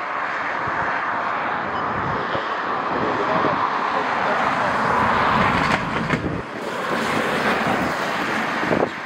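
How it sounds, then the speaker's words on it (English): Strong wind from Storm Elin at Dublin Airport, Ireland, roars and buffets continuously against the microphone, a loud, steady rush with occasional gusts up to 72 km/h. "Very windy today."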